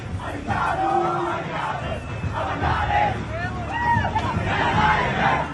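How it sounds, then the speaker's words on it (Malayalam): Fans at a Vijay film screening in Kochi make a loud crowd roar of shouting and whistling cheers, a continuous dense hubbub with scattered whistles rising above it. "വലിയ ആരവത്തോടു കൂടിയാണ് എന്തായാലും ആരാധകര്. വലിയ ബഹളമാണ്, വലിയ ആഘോഷമാണ്"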